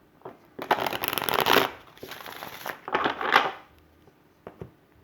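Tarot cards are riffled and shuffled in two quick, crisp bursts close by, followed by a few light card taps.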